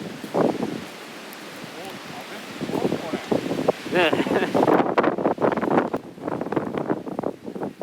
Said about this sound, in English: Please bear with the wind here.